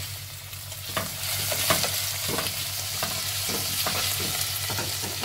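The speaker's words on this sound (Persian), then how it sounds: "گوشتمون رو هفت دقیقه تفت میدیم بعد از اینکه رنگ گوشتمون قهوه‌ای شد" Meat sautés with onions in oil for celery stew, a steady close sizzle with rhythmic scraping strokes of a spoon stirring the pan, no talking.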